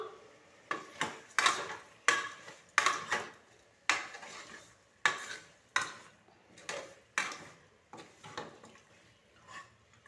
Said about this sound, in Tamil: மட்டனும் தக்காளியும் நல்லா வதங்கிறதுக்கு கொஞ்சமாக உப்பு சேர்த்துக்கிறேன். இதையும் சேர்த்து நல்லா வதக்கிக்குவோம்.